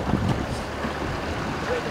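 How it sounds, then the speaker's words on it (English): Sailboat running downwind with its jib eased, close wind and water noise rushing steadily over the microphone for a couple of seconds. "You're sailing downwind now, mate."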